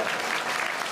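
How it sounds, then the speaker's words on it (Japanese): An audience claps together at the Turtle Talk show at Tokyo DisneySea, a dense, loud burst of applause that fills the room briefly, with no voices over it. "拍手を送ろうぜ。"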